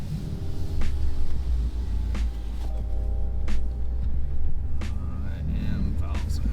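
BMW X5 M fitted with an aftermarket exhaust bought from Alibaba, rumbling steadily at a low idle or slow drive with occasional swells, while a voice talks over it.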